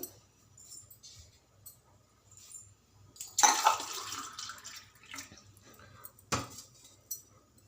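Water is poured into a cooking pot on a stove in a home kitchen, a short splashing burst of pouring followed by a few faint metallic clinks and another brief splash, quiet with no talk.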